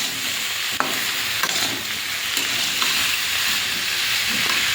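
Ridge gourd, potato and small shrimp sauté in a pan with salt, turmeric, chili powder and ground cumin, coriander and ginger, giving a steady close sizzle broken by a few sharp scrapes of stirring.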